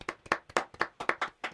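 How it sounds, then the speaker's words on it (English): Hands clap in a quick, steady rhythm of about eight sharp, close claps in a row, a small audience or presenter applauding an international football player, with no talking. "So let's give him a clap."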